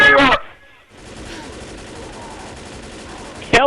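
Sustained rapid gunfire from Left 4 Dead survivors unloading on the Tank, a dense crackling barrage lasting several seconds between brief louder bursts at the start and end.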